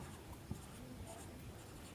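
Pen or chalk writing by hand during a Class 10 trigonometry lesson, a faint, quiet scratching with one soft tap near the start, with no voices.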